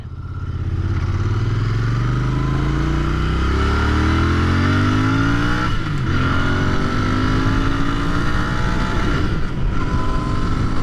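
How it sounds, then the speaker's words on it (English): A Royal Enfield INT 650 motorcycle engine revs hard and climbs steadily toward redline, loud and close, with rising engine harmonics that briefly dip at gear changes and climb again, sustained throughout with no talking. "I just redlined it."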